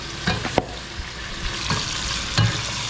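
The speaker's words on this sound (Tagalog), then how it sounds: "Iginisa ko lang sa kamatis, sibuyas, luya, bawang" Tomato, onion, ginger and garlic sauté in a hot pan with a steady sizzle, broken by a few scraping stirs and knocks from a utensil.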